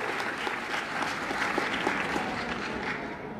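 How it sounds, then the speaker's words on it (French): Dense applause from the audience at a political party congress, a steady close patter of many hands clapping with no talk over it. "Applaudissez pour eux."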